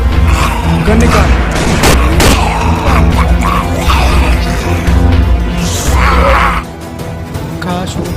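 Gunfire bursts in an animated story: a few sharp, loud cracks ring out early amid a dense, busy soundtrack, with voices heard around them.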